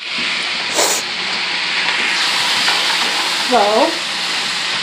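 Hot grease sizzles and hisses steadily in a pan in a smoky kitchen, a loud continuous frying sound with a brief spoken word near the start and a short voice near the end.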